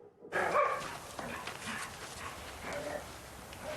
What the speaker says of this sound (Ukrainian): Це собака своїми діями позначає, що в даному ящику є заборонена речовина.